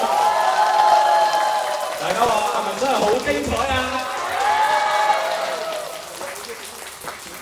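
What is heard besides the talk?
audience applause and cheers for performers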